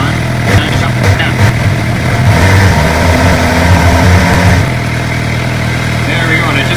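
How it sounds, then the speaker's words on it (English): A Suzuki GSX-R motorcycle idles steadily while its radiator fans blow hard during a coolant flush, a constant mechanical hum and rush heard up close, with the low engine tone shifting slightly partway through. "I just felt the fans come on. They are blowing hard."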